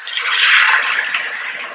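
Beef broth or stock poured into a pot holding a chuck roast with carrots, giving a steady bright liquid splash and trickle, close and fairly loud, alone without talk.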